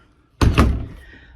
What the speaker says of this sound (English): And we'll close the door here.